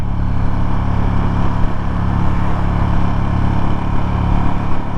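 Ducati XDiavel muscle cruiser motorcycle engine pulling steadily under medium power, a loud, continuous throaty drone with strong low rumble and wind noise throughout, heard from the rider's position.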